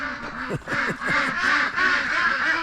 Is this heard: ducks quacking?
yes